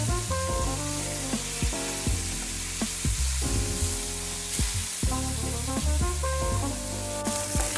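Pork chops browning in a frying pan give a steady, loud sizzle that runs throughout the clip, with occasional clinks and tonal kitchen noises layered over it.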